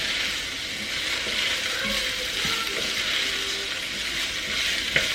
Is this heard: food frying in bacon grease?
yes